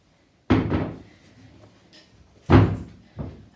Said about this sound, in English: I'm just going to grab a chair.